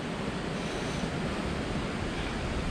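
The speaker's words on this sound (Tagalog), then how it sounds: "Ang lakas ng hangin." Strong wind roars continuously at Rotary Cove in Goderich, buffeting the microphone with a dense, steady rumble and hiss that never lets up.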